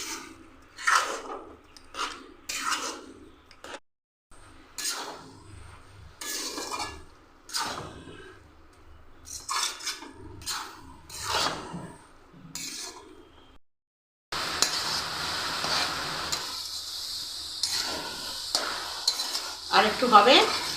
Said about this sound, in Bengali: ভালো করে নাড়তে হবে, নাহলে তলায় লেগে যাবে।